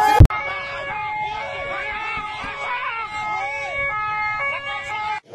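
An ambulance on its way to pick up a critically ill patient, blocked by drivers staging a demonstration; a wailing siren sweeps steadily through the whole stretch, loud and close, with a sharp knock at the start and crowd noise underneath.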